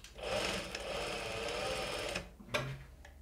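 A sewing machine runs steadily, stitching a fabric strip onto a homemade crop top, its close mechanical hum lasting about two seconds before stopping, followed by a few small clicks and no talk.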